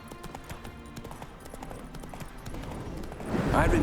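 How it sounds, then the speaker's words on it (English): Horse hooves clip-clop steadily in The Witcher 3 video game, moderately loud and close, building toward the end where a short whinny seems to rise over the footfalls. "Spooking my horse."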